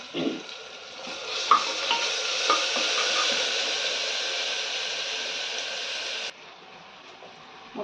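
Onions, green chillies, curry leaves and ginger-garlic paste sizzle steadily in hot oil for chicken biryani, a close, continuous frying hiss broken by a few soft stirring clinks before it drops quieter near the end.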